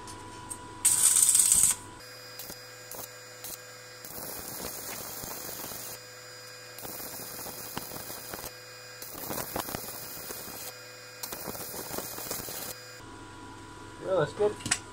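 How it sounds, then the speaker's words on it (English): An arc welder set for mild steel runs beads on a woodturning sharpening jig, a crackling, sizzling buzz in several long bursts separated by short pauses, over a steady electrical hum. "I've set the welder to mild steel. I'm going to strike on, and this action's a bit like striking a match."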